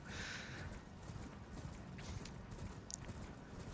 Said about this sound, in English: then get on your horse, and we'll make our way over to this dragon